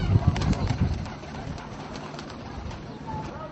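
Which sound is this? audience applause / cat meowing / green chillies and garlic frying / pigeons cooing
pigeons cooing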